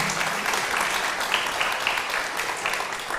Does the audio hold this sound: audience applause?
yes